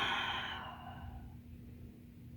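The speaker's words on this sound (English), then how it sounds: "And exhale." A slow, audible exhale during a gentle yoga class, starting as a breathy rush and fading out over a couple of seconds into quiet room tone.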